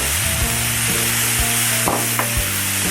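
Croquette filling with garlic and black pepper is stir-fried in a hot pan, giving a loud, constant sizzle with repeated knocks and scrapes of a spatula against the pan, close up and with no talking.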